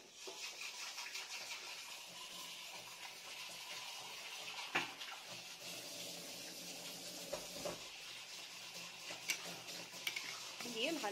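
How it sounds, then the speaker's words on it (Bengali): A spatula scrapes and stirs spices and dried fenugreek leaves (kasuri methi) in a cooking pan, giving soft repeated scraping, sizzling hiss and occasional light metal clinks, faint and close by. "ভালো করে নেড়ে নামিয়ে নেব।"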